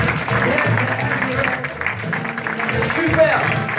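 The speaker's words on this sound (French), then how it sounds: "Je voudrais que vous l'applaudissiez très très fort." An audience at a hypnosis stage show applauds a hypnotised pole dancer, with a brief burst of clapping mixed with crowd noise under a loud speaking voice.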